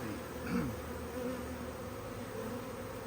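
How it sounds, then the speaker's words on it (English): A large honeybee swarm hums steadily in a garden, a dense continuous buzz with individual bees passing close now and then, no voices over it. "That was a big swarm."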